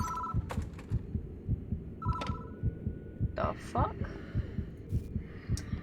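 A steady, deep heartbeat thumps throughout a scene in the horror game Spirit Hunter: Death Mark, with faint electronic phone tones above it and a voice speaking briefly.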